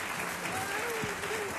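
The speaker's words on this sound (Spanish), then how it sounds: "Vamos, aplauso, aplauso, aplaudir también." Studio audience clapping on a 1980 Spanish TV game show, a steady wash of applause through the short stretch, with a voice speaking over it.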